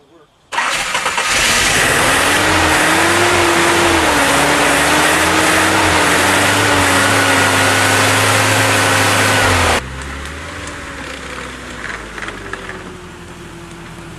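A Nissan truck, left unstarted for almost a year, cranks and fires into a loud, rough, bumpy idle that holds steady before dropping to a quieter run, with a voice speaking over it.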